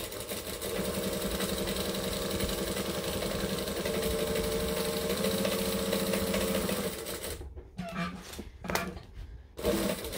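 A sewing machine runs at a steady fast rhythm top stitching fabric for about seven seconds, close and even, then stops and gives way to a few short handling clicks and rustles.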